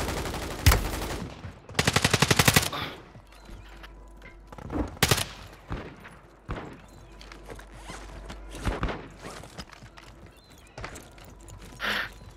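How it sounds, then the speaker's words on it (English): Gunfire in Call of Duty Warzone, with several sharp single shots and a rapid burst of automatic fire near the start, then scattered shots at varying distances, loud and close at times, fainter at others. "Oh, I'm getting shot at."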